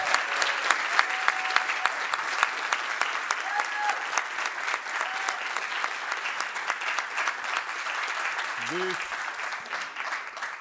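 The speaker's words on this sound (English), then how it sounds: "So let's give the community a round of applause." Audience at a school district levy community meeting breaking into applause: a dense, steady patter of many hands clapping, loud and sustained for about ten seconds with no talk over it.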